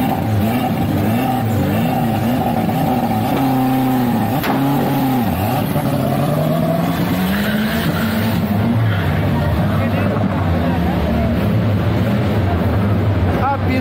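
Turbocharged drag race cars run practice passes on a dried track after heavy rain, their engines roaring loudly and steadily with rising and falling revs throughout, while crowd noise and talk sit underneath.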